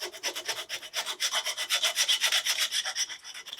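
A file rasps back and forth over the brake pad carrier of a 2014 Ford Focus during a front pad and disc job, in rhythmic strokes that are close and fairly loud.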